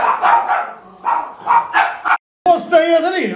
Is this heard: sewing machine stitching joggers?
no